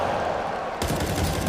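Gunshots in the video game CS:GO: a single sharp shot cracks in abruptly partway through, over steady game noise, with no talking.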